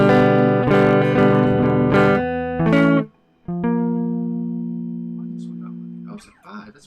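Sustained electric guitar chords ring out, strummed a few times, then a single chord held and slowly decaying, with brief faint noise at the end.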